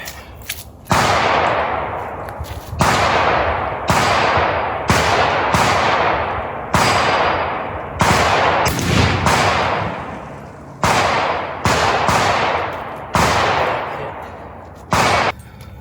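Gunshots from an original Winchester 1873 lever-action rifle in .44-40 fired at a 25-yard range: about a dozen loud, sharp reports with decaying tails, spaced one to two seconds apart by lever cycling, with no talk.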